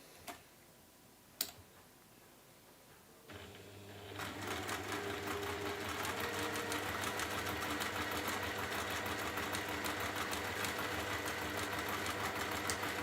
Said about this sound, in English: So we're just going to sew those 2 sides down.